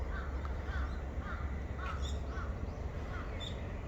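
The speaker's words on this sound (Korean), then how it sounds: "벚꽃과 까마귀 소리가 어우러져 있어서 새소리 엄청 듣기 좋습니다." Crows caw among cherry blossoms, a string of hoarse calls repeated roughly every half second at moderate distance over steady outdoor background noise, with no talking.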